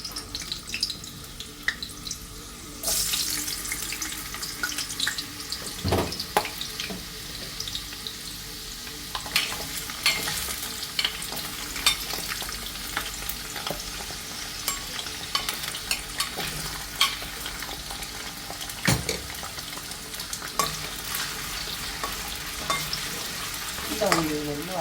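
Potatoes frying in oil in a pan while being stirred, with steady sizzling and a spoon scraping at irregular moments, a few sharper clinks, and no talking.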